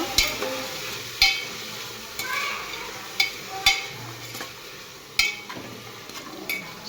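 Ingredients fry in a pan with a soft, steady sizzle, broken by repeated scraping strokes of a spoon stirring against the metal at irregular intervals.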